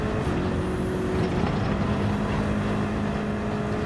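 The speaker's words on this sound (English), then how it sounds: "Here comes the brake." In Gran Turismo 7, a car brakes on the Nürburgring Nordschleife, a loud, steady engine drone whose tones shift slightly as it slows. There is no talking.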